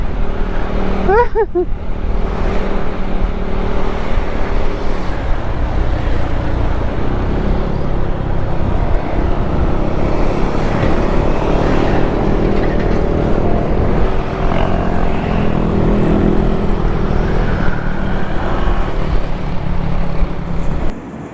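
Yamaha R15 V2 motorcycle with a starter problem, its engine running loud and close throughout with a steady throttle roar and a brief rising rev near the start.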